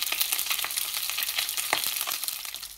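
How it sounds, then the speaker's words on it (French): A sea bream fillet fries skin side down in hot oil in a pan, giving a steady, close, crackling sizzle with small popping bursts throughout and no voices. "on prend le morceau de pagre et on le met comme ceci, côté peau, sur la poêle"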